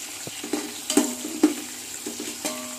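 Onions sautéing for chicken biryani sizzle softly while a spoon scrapes and taps against the pan in irregular strokes, close and moderately loud.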